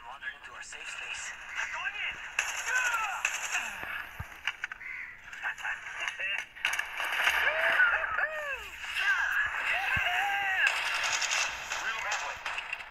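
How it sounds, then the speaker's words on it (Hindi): Gunfire rattles in the video game Apex Legends in busy, rapid automatic bursts at moderate distance, mixed with other game effects, while a player talks over it. "इसी साइड चल रही है गोलियां, या फिर पीछे चल रही है।"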